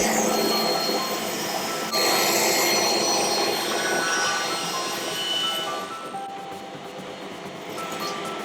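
A table saw runs loud and close while cutting a strip of plywood, a dense whining roar that shifts pitch as the blade bites, then eases slightly toward the end.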